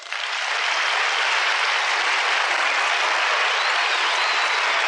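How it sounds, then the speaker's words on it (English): A game show studio audience bursts into sustained, even applause that swells quickly and holds loud and full throughout, with no voices over it. "I'd like you to welcome them with a good round of applause for Deborah Montgomery and Scott Mitchell."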